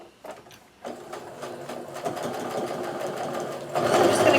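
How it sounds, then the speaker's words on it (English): A domestic sewing machine stitches a quarter-inch seam on a quilt block, starting after a brief pause, then running in a steady mechanical whir that speeds up and grows louder toward the end, close up. "I'm just going to go ahead and sew down that seam."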